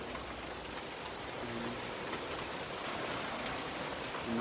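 Heavy rain pouring during a tornado in Alabama, a dense steady hiss of drops hitting surfaces, constant and moderately loud with no voices.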